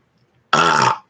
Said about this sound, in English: Burping the ABC song